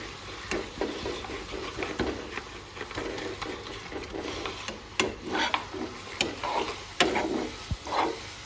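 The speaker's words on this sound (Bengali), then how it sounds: "এটা কন্টিনিউয়াসলি নাড়তে হবে যাতে পোড়া না লেগে যায়" A spoon continuously stirs sweet pitha filling in a pan for Makar Sankranti, making steady scraping strokes with soft sizzling and sharper clacks of utensil against the pan.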